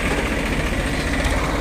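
An old tractor engine runs steadily at idle while its hydraulic lift is raised and lowered with a heavy harrow attached, a constant near rumble without a break.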